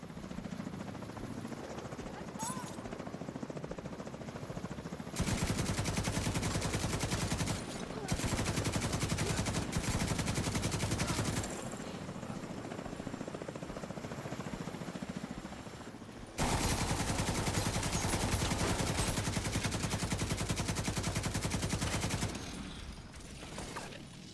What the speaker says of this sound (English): Just in case you were wondering if this gun is any good.